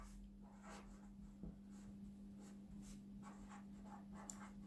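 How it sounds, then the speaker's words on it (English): A pen writing on paper during a Year 2 maths lesson, faint scratchy strokes repeated in short bursts against a steady low hum, with no talking. "So I'm going to write the difference"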